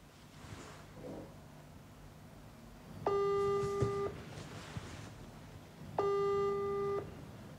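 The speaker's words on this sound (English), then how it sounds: "Let me call him from my phone now." A phone ringing out unanswered on a call that goes to voicemail: two steady electronic ring tones, each about a second long and three seconds apart, over a quiet room with faint rustling.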